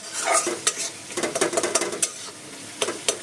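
Rui fish frying with potato and eggplant in a pan, loud sizzling broken by a quick series of sharp spatula scrapes and clinks against the pot, with a few more scattered knocks near the end.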